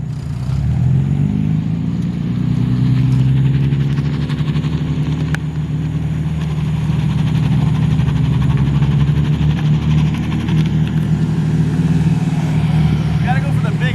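A drift car's engine idles at a street car meet in Florida, a steady, loud, low droning rumble that holds evenly throughout, with faint crowd murmur underneath.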